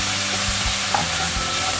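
Egg fries in a hot wok for Singapore chow mein, giving a loud, constant sizzle with soft scraping stirs close by and no voices.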